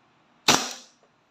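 A single sharp crack from a DB Pit Viper blaster being test-fired, one close, loud report with a short decaying tail and no talk.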